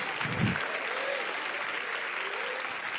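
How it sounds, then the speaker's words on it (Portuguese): A church congregation claps together in steady, dense applause, fairly soft and spread out as if filling a large hall, holding evenly for a few seconds. "Se você puder aplaudir, aplauda glorificando a Deus."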